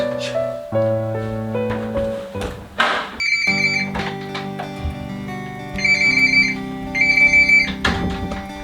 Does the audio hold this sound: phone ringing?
yes